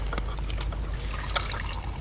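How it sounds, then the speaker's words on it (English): Water drains from a sprinkler backflow valve with a continuous trickling, gurgling flow, close by, with small splashes and no talking. "So there we've got water flowing out."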